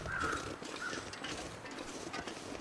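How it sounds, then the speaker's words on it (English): Birds calling in the snowy wilderness of The Long Dark game, a couple of short harsh caws over faint wind and ambient noise. "Oh, birds. They heard me."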